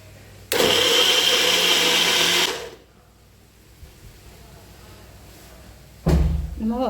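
A new blender jar whirs loudly for about two seconds while blending apple with a cup of Aavin milk, falls to a quiet pause with faint talk, then starts a second burst.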